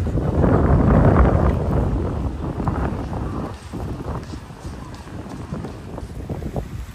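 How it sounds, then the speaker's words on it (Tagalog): Strong wind gusts buffet the microphone on Dolomite Beach along Manila Bay, with heavy low rumble that surges early and then eases into uneven, blustery bursts. "Tingnan nyo po sa lakas ng hangin"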